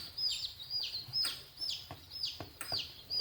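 Newly hatched baby chicks peep in a rapid string of high, bright chirps, several overlapping calls close by with no talking.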